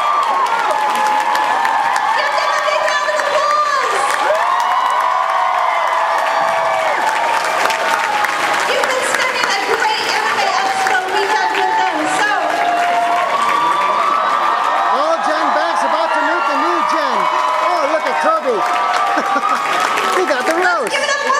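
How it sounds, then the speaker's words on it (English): Audience at an anime convention panel for the Sailor Moon cast claps and cheers steadily for about twenty seconds, with loud sustained applause and whoops throughout. "Give them a big round of applause."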